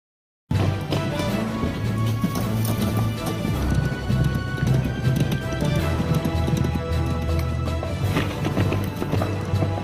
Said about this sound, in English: riders like Paul Revere rode out to alert the militias in the villages along the way